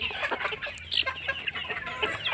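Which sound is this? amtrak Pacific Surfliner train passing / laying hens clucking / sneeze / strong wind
laying hens clucking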